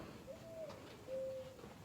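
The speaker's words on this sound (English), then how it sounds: "I think those are birds." Birds coo softly at a historic fort in Darien, Georgia, two faint, drawn-out hooting notes over low background rumble.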